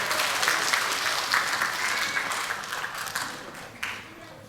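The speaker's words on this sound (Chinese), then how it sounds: "我们给他掌声鼓励" An audience at a church gathering applauds a departing missionary, a broad steady clapping that begins loud and gradually fades over a few seconds.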